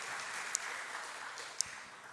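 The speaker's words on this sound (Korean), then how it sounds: "우리 박수로 환영해 주시기를 바랍니다." Church congregation at a Sunday worship service claps softly to welcome a newly registered member, a faint even patter of applause with a couple of sharper isolated claps standing out.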